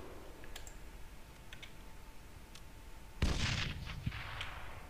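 A grenade goes off in the military shooter Arma 3, a sudden loud burst after quiet ticking and distant shots, leaving a noisy rumbling tail with a further pop.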